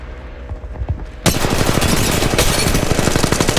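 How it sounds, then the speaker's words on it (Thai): Rapid automatic gunfire in the Apex Legends video game, a dense burst of close, loud shots that starts abruptly and continues steadily to the end. "กำลังยิงต่อสู้"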